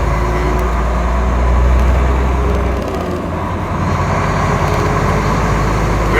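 A Volvo FMX 480 8x4 tipper truck cruising in ninth gear, heard from inside the cab as a loud, steady low engine drone blended with constant road rumble.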